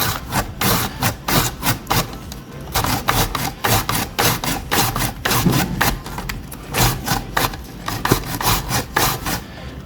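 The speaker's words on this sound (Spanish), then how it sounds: "Lo primero que voy a hacer es, con mucho cuidado, con una mandolina, es rallarlas." Peeled potatoes are grated on a mandoline in quick, rhythmic rasping strokes, about two per second, close and loud, with no talking.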